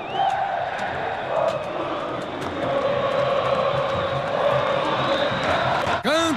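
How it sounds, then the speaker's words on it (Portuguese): Vasco supporters fill a football stadium at the Copa do Brasil final against Coritiba, a steady roar of crowd noise holding at a constant level throughout, with a commentator talking over it. "A torcida do Vasco"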